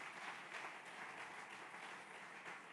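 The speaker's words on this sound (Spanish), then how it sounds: "Vamos a darle fuerte el aplauso." Church congregation applauding during a Spanish-language sermon, a steady wash of clapping that holds evenly across the whole stretch, moderately distant and without speech over it.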